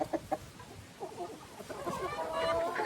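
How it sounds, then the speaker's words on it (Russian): Chickens and roosters in a laying-hen flock clucking in short repeated bursts, close and fairly quiet, with a person speaking softly among them. "Вижу, что очень много петушков."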